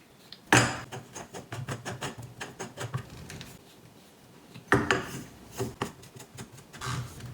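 Threaded legs of a BCAN 450/550 lb trampoline being screwed onto their pegs give a close series of rasping, rubbing scrapes with quick patters. Two louder bursts stand out, and no one speaks.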